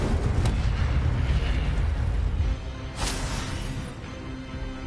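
Incendio fire spell cast in Hogwarts Legacy, a sustained roaring blast of flame with booming low rumble, punctuated by two sharp crackling bursts, loud and close throughout.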